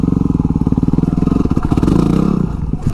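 Dual sport motorcycle engine chugging loudly up close with a rapid, pulsing beat as the bike clambers over urban obstacles like staircases, with clattering thumps midway and a revving surge at the end.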